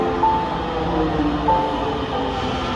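A Dhaka metro rail train rumbles steadily nearby with a continuous loud roar and faint tonal whines from its motors.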